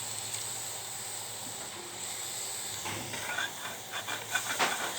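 Beef curry hissing in a cooking pot just after water is poured in, a soft steady steam hiss with a few louder bubbling spurts toward the end.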